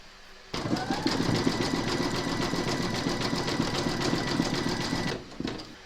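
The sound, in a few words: embroidery machine zigzag stitching notebook cover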